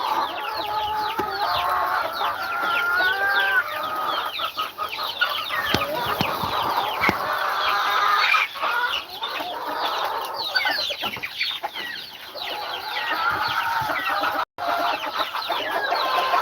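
A flock of farm chickens clucks loudly at morning feeding time on a farm in Aklan, a dense, continuous chorus of overlapping clucks and squawks close by that never lets up.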